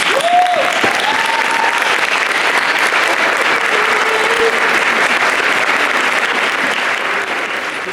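A large audience at a Legal Aid Society awards evening applauds an award recipient, a steady, dense wash of clapping that holds at full strength for about eight seconds with a few faint voices mixed in.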